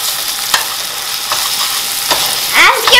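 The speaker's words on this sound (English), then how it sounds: "Need to saute it well so it doesn't get burned." Ginger garlic paste sautéed fast in a pan gives a loud, bright, steady sizzle, with three rhythmic stirring scrapes and a few sharper squeaky scrapes near the end.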